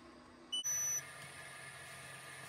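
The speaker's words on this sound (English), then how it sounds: "the beeping has stopped" A Power Queen 12V 40A DC to DC battery charger gives a brief electronic beep, a short tone followed by a longer steady one, against a low background hum.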